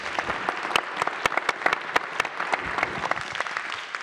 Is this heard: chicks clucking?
no